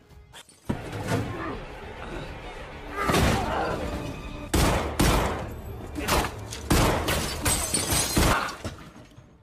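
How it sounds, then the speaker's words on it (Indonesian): Loud bursts of gunfire crack out in irregular volleys during a shootout in an action film, with sharp shots, heavy thuds and shattering impacts crowding one another. "Terjadi tembak-tembakan di mana si pelaku akhirnya kalah karena kehabisan peluru"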